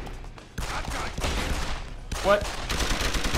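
Enemy gunfire in Deus Ex: Human Revolution, a steady burst of overlapping shots and fusillade that fills the whole stretch, with a brief spoken exclamation from a player's voice partway through.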